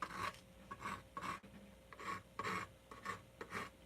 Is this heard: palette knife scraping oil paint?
yes